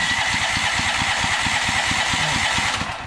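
A Firman dual fuel generator running on propane chugs in fast, even pulses close by, loud and steady with no voices.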